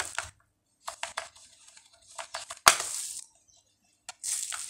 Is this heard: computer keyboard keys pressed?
yes